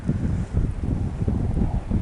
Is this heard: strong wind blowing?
yes